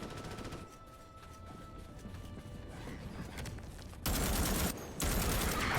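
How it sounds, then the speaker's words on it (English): Machine gun fire in the video game Starship Troopers: Extermination, a dense continuous rattling barrage that runs throughout and bursts louder in the last couple of seconds, with no talking. "The machine gun is not for when you are moving."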